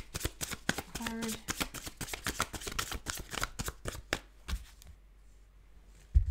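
Tarot cards being shuffled by hand, a rapid run of crisp riffling flutters and slaps lasting several seconds, close and clear, tapering into a few soft taps with a quiet voice briefly underneath.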